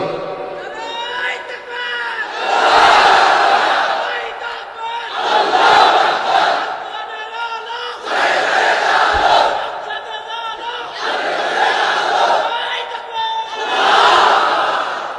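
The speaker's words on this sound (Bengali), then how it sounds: "তাকবীর পড়েন তো দেখি, আল্লাহর নামে পড়েন, লিল্লাহে তাকবীর" A large crowd at an outdoor Islamic religious gathering in Khulna roars the takbir in loud, repeated bursts, four or five swelling shouts separated by short pauses.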